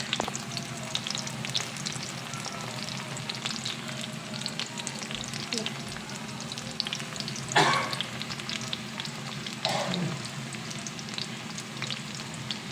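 Masala paste for a fish curry frying in a pan, with a steady close sizzle and a few louder scraping stirs; no one speaks.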